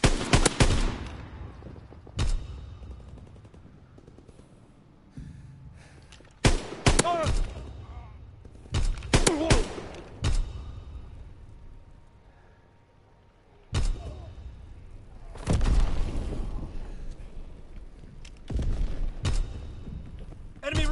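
Gunfire in Call of Duty WW2, with repeated loud bursts of shots and booming reports separated by quieter gaps, mixed with game chatter and a player talking.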